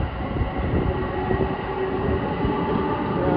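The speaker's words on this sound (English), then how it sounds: "Here comes this train." A Long Island Rail Road diesel train passing nearby, a loud, steady rumble and roar of engine and rolling wheels, with a faint tonal whine running through it.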